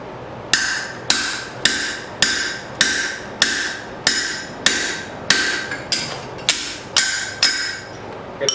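A steel drift is hammered through holes in hot iron while a bird feeder hanger is forged. About fourteen sharp, ringing metal strikes land at a steady rhythm, each decaying before the next, close and loud.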